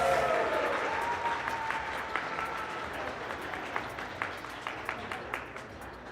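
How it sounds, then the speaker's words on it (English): Audience applause at an award ceremony during the AMOS Festival 2025 cup in Las Vegas: a wash of clapping that starts loud and fades, leaving scattered individual claps near the end. "Congratulations! Round of applause!"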